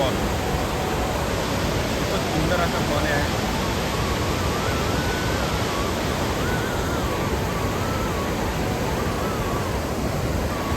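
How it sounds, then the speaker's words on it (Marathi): A loud, constant roar of rushing water from Randha Falls near Bhandardara, Maharashtra, fills the clip, dense and unbroken, with a voice briefly speaking under it. "भयंकर अशा धबधबा हेसाळ पाणी"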